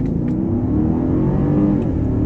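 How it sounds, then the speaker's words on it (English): Heavy 2013 Mercedes S550 sedan with a V8, suspension in sport mode, accelerating hard: a steady, loud engine roar with deep low rumble that holds continuously, heard from inside the car with no talking. "we're going to go ahead and get on it and see how it accelerates"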